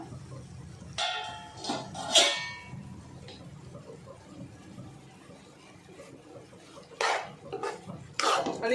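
A metal plate used as a lid lifted off a pan of simmering chicken keema: a few separate clanks and scrapes of metal, with quieter stretches between them.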